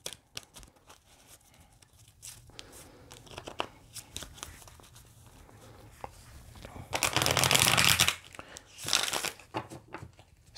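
Tarot cards being shuffled by hand, close and quiet: soft papery riffles and crinkles throughout, building to two louder bursts of dense shuffling near the end, with no talking.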